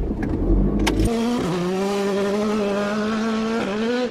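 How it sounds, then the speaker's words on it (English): A car engine cranks with a noisy burst, catches after about a second, then settles into a steady, loud, humming idle that wavers slightly before cutting off at the end, with no talking. "Start off the car."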